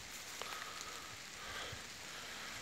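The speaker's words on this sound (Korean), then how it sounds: "비가 오네요." Rain falling in an autumn forest, a soft, steady, faint patter with scattered drops and no voices.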